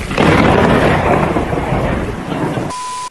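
Heavy rain and rolling thunder in a dinosaur survival video game, a loud continuous roar of downpour with deep rumbling throughout, cutting off abruptly at the end.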